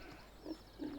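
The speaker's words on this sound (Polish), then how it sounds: "A, to jest czarna świnia." A black pig in the Farming Simulator 17 video game lets out two short, low grunts about a third of a second apart, faint against a steady background hum.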